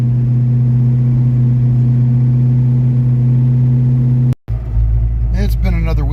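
A 1982 Ford Mustang GT engine idles after a cold start with a steady, low, even hum. The rumble drops out briefly near the end and returns rougher, with a voice talking over it.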